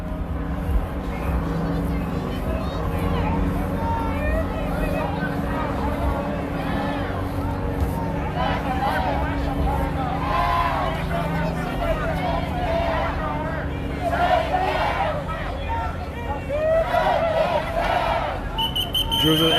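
A large protest crowd faces riot police, roaring and shouting in a continuous dense babble with chanting swells and occasional whistles, and a nearby voice talking over the din.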